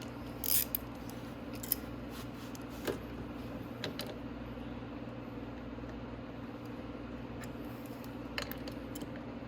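Tightening a newly installed upgraded muffler on a Venom X22 125cc motorcycle: a few faint ratchet-like clicks and small metallic taps over a steady low workshop hum, with no talking.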